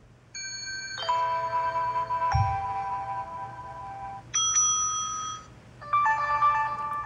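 A BLU Life One X (2016) phone plays its loud default text notification, a bright electronic chime of stacked melodic tones repeating in short bursts over faint background hum.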